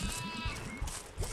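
A sheep in the video game Overlord: Raising Hell bleats in a few close, wavering calls in quick succession, loud and clear with no talk over it.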